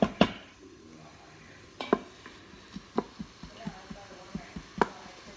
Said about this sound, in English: I'm going to stir it up for like 3 minutes or so. That way it'll kind of sweat a little bit.